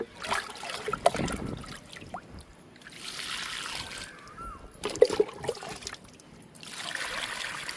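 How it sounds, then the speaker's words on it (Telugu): Water trickles and splashes softly onto the soil and leaves of a jasmine plant in uneven bursts, faint and close by. "విరజాజి మొక్కకి వాటర్ ఇస్తున్నాను."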